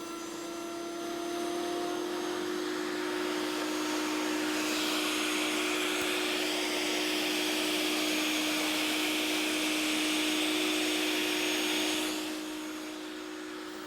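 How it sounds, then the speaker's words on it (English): Router bit cutting a mortise in wood stock on a router table, a steady loud motor whine with a broad cutting rasp that swells for several seconds as the stock is fed, then eases back, no talking. "When cutting, Jim feeds the work always away from himself"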